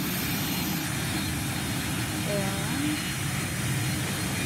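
A Boeing 747 on its takeoff run produces a steady, broad engine roar heard from inside the cabin, with a faint rising tone partway through and a voice briefly present under the noise.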